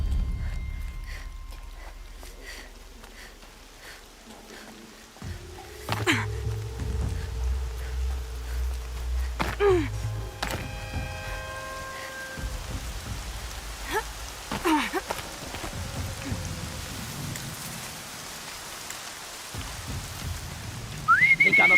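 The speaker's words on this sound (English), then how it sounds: "Rain." Rainfall in the video game Horizon Zero Dawn, a continuous soft hiss that thickens after a few seconds, mixed with low rumbling and thin whistling game tones.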